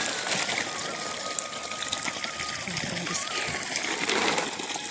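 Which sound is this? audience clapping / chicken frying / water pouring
water pouring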